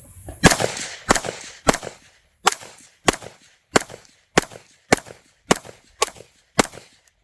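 An FN Five-seveN MkIII MRD pistol fires Speer Gold Dot rounds on a range, giving about a dozen sharp, loud shots at a steady rhythm roughly every half second.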